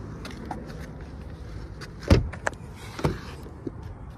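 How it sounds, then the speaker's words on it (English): The one-touch power sunroof of a 2022 Genesis G70 2.0T tilts open with a faint electric motor hum inside the cabin, marked by a few soft mechanical clicks and thumps. "You have a one-touch power sunroof with the tilt feature."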